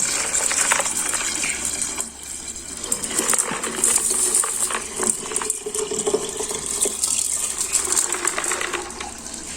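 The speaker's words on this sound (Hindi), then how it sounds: "पहले पानी डाल लेते हैं" Water is poured into a small glass fish bowl being set up for a fish, a steady splashing, trickling stream that runs continuously and close by, with no talking.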